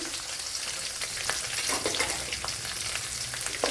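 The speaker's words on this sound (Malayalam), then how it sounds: "ഇത്രയിട്ട് കൊടുത്തൊന്ന് വഴറ്റി എടുക്കാം" Green chillies, garlic and ginger sautéing in hot oil for a brinjal curry, a steady close sizzle and crackle with occasional stirring scrapes and no talk.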